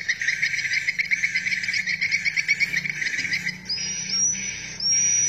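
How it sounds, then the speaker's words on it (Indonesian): Recorded swiftlet call played back through a speaker: rapid, high chittering trills repeat in a fast insect-like pulse for several seconds, then give way to thin, rising whistled tones, clean with no talking. "Itu suara, kalau tidak salah, punya walet mas."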